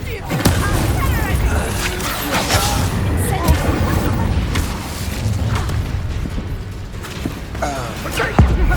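A fire spell cast in the Hogwarts Legacy video game, with booming crashes and whooshes amid a dense, busy battle mix under speech-like voices, a sharp thump near the end.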